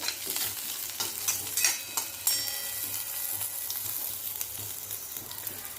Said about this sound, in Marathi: जिरं लसण मिरची छान भाजून घ्यायचं